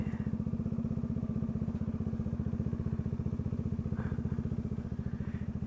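A motorcycle engine pulses with a steady, rapid low throb as the bike rides along on a road trip through Vigan, Ilocos Sur. It holds an even rhythm with no talk.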